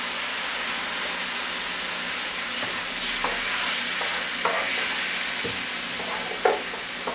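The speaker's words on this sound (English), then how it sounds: "So first in goes the maple syrup." Maple syrup poured into a hot pan left with spices from cooked pork loin, giving a loud continuous sizzle with scattered spatter pops and a few stirring scrapes.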